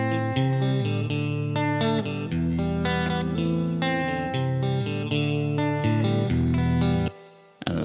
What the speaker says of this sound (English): So now the DI signal sounds like this.